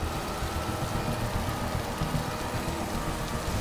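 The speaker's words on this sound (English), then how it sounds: "The rain would pour, and then it would pour heavier and heavier and heavier." Steady, heavy rain pours down on a highway in Alberta in an unbroken hiss, loud and close, with a faint low rumble underneath.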